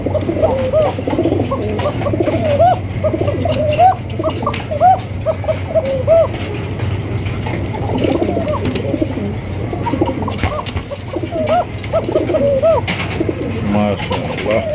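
A pair of Arabian coca pigeons coo loudly and repeatedly in a loft, their deep rolling calls overlapping steadily throughout against a low background hum, with other pigeons faintly audible.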